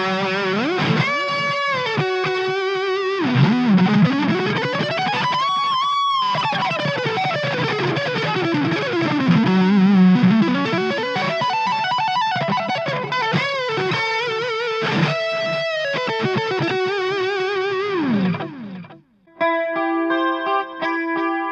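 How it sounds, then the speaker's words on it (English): Washburn X series electric guitar played through Digitech RP50 factory presets into a small Washburn 15 watt amp, heavily effected tones with sweeping pitch bends and sustained notes, changing character across presets, ending in a brief gap and short chords. "The sounds that you're hearing are the factory presets from the Digitech RP50"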